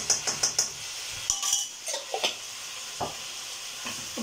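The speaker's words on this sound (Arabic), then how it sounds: "نقلب كله في بعضه زي ما انتوا شايفين كده" Grated tomato and tomato paste are stirred in a pot, with a spoon knocking and scraping in quick bursts over a light sizzle, then pausing with a few slower scrapes, nearby and without talking.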